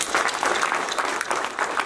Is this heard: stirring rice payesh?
no